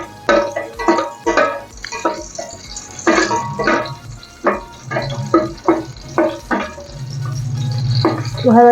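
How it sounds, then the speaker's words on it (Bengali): Whole spices, cinnamon and cloves, frying in a pan in a home kitchen while someone talks over it. Light sizzling and stirring scrapes come in short bursts, and a steadier fry rises near the end. "এই যে দারচিনি, লবঙ্গ, এগুলো একটু দিয়ে একটু ভেজে নেবো"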